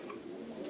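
Racing pigeons in a loft give soft, low, throaty coos, close by and continuous in a short burst, with faint background noise and no talking.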